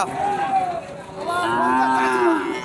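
A local-breed cow mooing nearby at a cattle market: one short low moo, then a longer, rising and falling bellow, with faint background noise.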